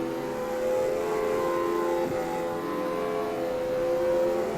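A classic Mustang in CarX Drift Online, set up with a drag tune, revs loudly with a steady, buzzing engine note and a brief shift midway, no voices.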